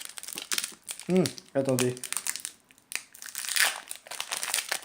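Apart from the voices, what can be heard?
opening a packet of trading cards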